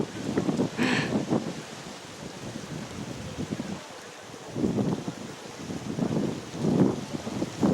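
Strong gusty wind buffets the microphone in rough, rushing surges that rise and fall, with a brief higher-pitched sound near the start and no talking.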